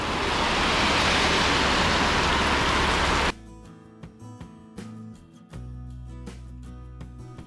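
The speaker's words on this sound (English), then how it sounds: "And we've come to Cairns and the rain is torrential." Torrential rain in Cairns roars as a dense, steady hiss for about three seconds, then cuts off abruptly into music.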